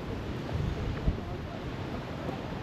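Strong wind buffets an outdoor microphone on a cherry blossom walk, a continuous low roaring rumble with uneven gusty swells and no pause.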